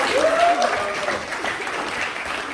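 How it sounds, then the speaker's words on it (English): Applause from an audience at a health inequalities network event with a play, steady and fairly loud throughout, with a voice speaking over the clapping at the start. "Can we give her a round of applause?"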